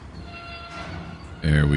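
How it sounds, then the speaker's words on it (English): Train cars bunch and jolt in slack action while the brake is applied in the Trainz 2022 simulator, a steady rolling rumble ending in a sudden loud heavy clunk and groan near the close. "A little slack action, even with the brake on."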